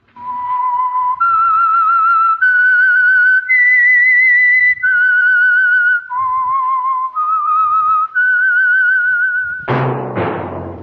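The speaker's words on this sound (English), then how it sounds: "That whistle is your signal, the Whistler." Signature whistled tune from the 1947 radio drama The Whistler, a clear, solo melody of sustained notes stepping up and down with slight vibrato, ending in a sudden sharp orchestral stinger.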